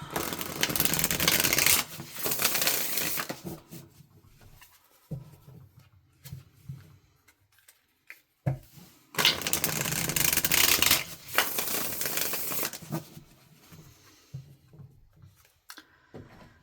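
A deck of tarot cards is shuffled by hand in two long, close bursts of riffling and rubbing, with quieter card handling in between.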